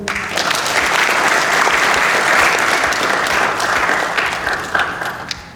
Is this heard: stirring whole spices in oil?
no